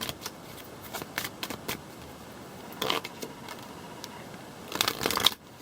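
A deck of playing cards is riffled and shuffled in several quick, crisp bursts separated by quiet pauses, close and fairly soft, with the last flurry the loudest.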